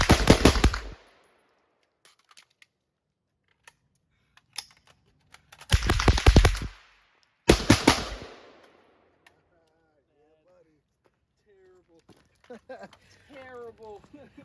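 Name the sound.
gunfire from .22 rifle and 5.56 rifle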